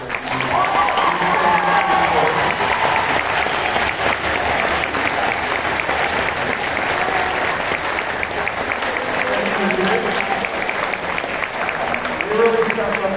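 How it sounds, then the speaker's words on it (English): Warm, sustained round of applause from an audience at a marching band awards event, honouring the band's leaders. Steady clapping carries the whole stretch, with faint crowd voices mixed in. "could you stand up right now and get the warm round of applause"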